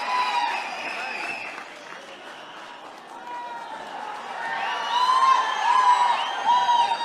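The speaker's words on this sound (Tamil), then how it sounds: "அரங்கம் நிறைந்த கைத்தட்டல்." Applause from an audience filling a hall, steady clapping that swells toward the end with cheers and excited shouts mixed in.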